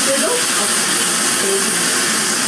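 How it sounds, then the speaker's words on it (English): Steady broadband hiss of soy sauce and honey sizzling in a hot pan, continuous and close, with a few faint tonal clinks over the crackle. "You'll hear a nice little sizzle."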